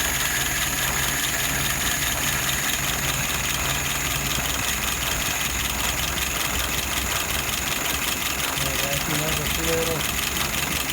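An engine idles steadily with the revs raised slightly, a continuous mid-to-low hum with no change in pace for about eleven seconds, heard near and fairly loud.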